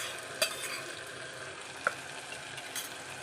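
Softened vegetables and ginger-garlic paste sauté in a pan for veg pulao, a steady low sizzle throughout with a couple of sharp clinks from the stirring spoon, quiet and close.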